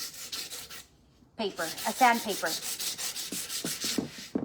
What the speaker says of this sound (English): then I'm just gonna go over it with a sandpaper